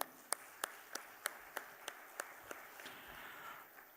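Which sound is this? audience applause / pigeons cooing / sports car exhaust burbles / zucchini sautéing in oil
audience applause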